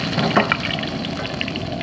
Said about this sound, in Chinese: 再把姜下进去